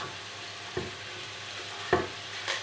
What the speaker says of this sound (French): Il y a 200 g de champignons. Hop. Et on va cuire tout ça.